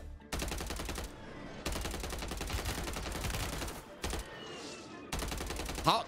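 Sustained automatic gunfire from a Warzone match, loud bursts of rapid shots separated by short pauses, with a brief quieter stretch near the end before the firing resumes.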